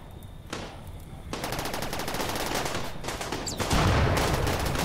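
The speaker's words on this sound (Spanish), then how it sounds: "Estaba oyendo otros disparos." Sustained bursts of rapid automatic gunfire from a firefight in the video game RimWorld, dense and continuous, growing louder and heavier toward the end with overlapping shots.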